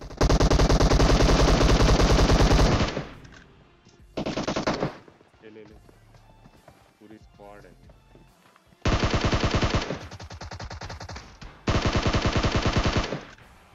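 Loud, sustained automatic bursts from an M762 rifle in the battle-royale game PUBG: a long opening burst, a short one, then two more long volleys near the end, with quieter in-game sounds in the gaps.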